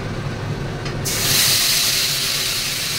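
Mustard seeds going into hot oil already sizzling with black cumin. A steady fry hiss jumps to a louder, brighter sizzle close up and holds.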